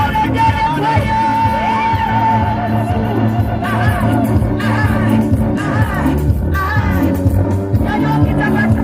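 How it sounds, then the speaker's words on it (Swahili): A congregation at a gospel meeting ululates and shouts in lively bursts over a steady musical backing, with loud, overlapping voices and high trilling cries throughout. "Weka vigelegele kwa Yesu."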